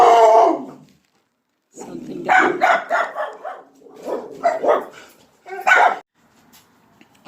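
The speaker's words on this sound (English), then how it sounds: "He's going to start barking, you guys, so bear with us." A dog barks and yelps in several close, loud bursts, with a person speaking briefly between them.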